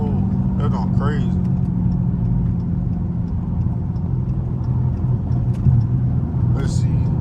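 A Hellcat engine pulling hard in track mode, a loud low rumbling drone inside the car with a steady roar throughout, and someone talking over it near the start.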